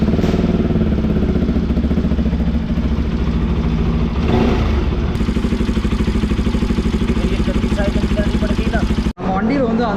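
A touring motorcycle's engine, ridden from Madurai toward Ladakh, idles and runs with a loud, steady throb and a persistent rattling clatter from the top end, while someone talks over it and the sound briefly cuts near the end.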